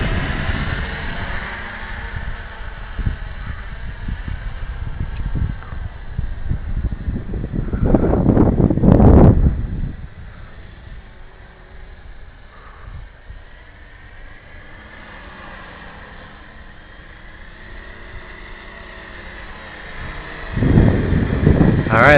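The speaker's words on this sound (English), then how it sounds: "We got some pretty good wind right now." Strong outdoor wind roars and buffets the microphone during a small quadcopter flight, with louder gusts surging around the middle and again near the end over a steady rushing background.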